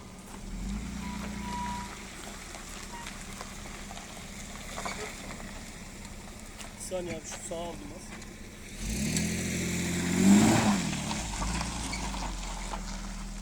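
A car idles and manoeuvres in reverse to hitch up a large trailer, a steady low engine drone that swells briefly as it revs near the end, with voices talking faintly over it.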